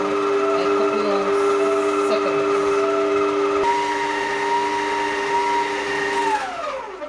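An electric mixer whirs steadily through strawberry cake batter, a loud, sustained motor drone with a pitch shift midway as the load changes, then winding down at the end.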